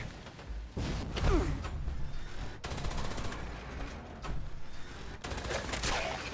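Gunfire in Fallout 76, several sharp bursts of shots at irregular intervals, with mechanical clanks and rattles between them, fairly close and loud.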